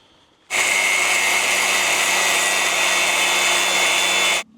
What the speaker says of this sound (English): So I've got to cut these last 2 and then it's pretty much done.